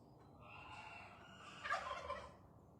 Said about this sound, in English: Did you hear the chickens make the noise?